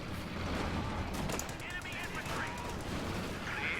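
Battlefield gunfire from the World War II strategy game Company of Heroes 2, with dense rattling machine-gun bursts and scattered shots running continuously under a steady wash of game noise.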